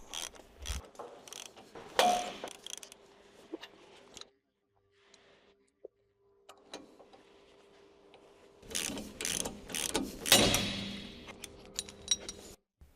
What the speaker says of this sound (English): Using the ball joint separator with a 22mm large socket and a large ratchet, loosen the upper and lower ball joint